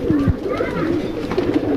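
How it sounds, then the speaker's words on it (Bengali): Musaldom pigeons at a loft giving low cooing calls, with a burst of coos near the start and more scattered through the short stretch, close and fairly loud. "এটা হলো আর মুসলদম কবুতর।"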